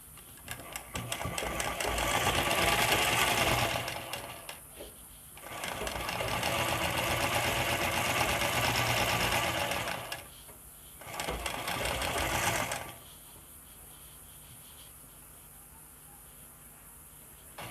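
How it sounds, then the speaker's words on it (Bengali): Sewing machine stitching along the folded edge of pant fabric in three bursts of steady rapid whirring, separated by short pauses, then falling quiet. "পুরো এইভাবে ভাঁজ করে পুরো চারিদিকে সেলাই করে নিতে হবে"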